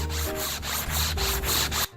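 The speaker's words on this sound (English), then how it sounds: "Using a concave sanding block, we could match the trim for the fretboard." Guitar fretboard trim of Tiger Stripe Koa is rubbed against a concave sanding block, about six quick, even back-and-forth scraping strokes close up, ending abruptly.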